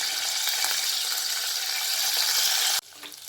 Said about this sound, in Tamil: ஆயில் நல்லா சூடேறிடுச்சு இப்போ க்ளீன் பண்ணி வச்ச கருவாட்டை அதில் சேர்த்துட்றேன் ஸ்டவ்வை ஸ்லோ ஃபயரில் வச்சுட்டேன் கருவாடு பொரியட்டும்